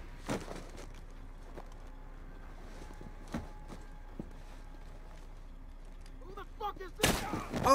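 Gunfire in the video game Call of Duty Modern Warfare: scattered single sharp shots at uneven intervals over a low background, ending in a louder burst near the end, with faint voices and movement in between.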